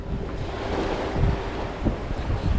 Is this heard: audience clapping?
no